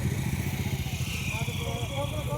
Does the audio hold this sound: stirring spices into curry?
no